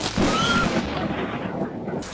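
Loud thunder from a lightning storm that frightens dogs: a heavy, sustained rolling rumble that fills the whole moment and fades slightly toward the end.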